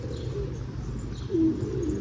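Soft pigeon coos rise over a steady low rumble of background noise, with a slightly louder coo partway through.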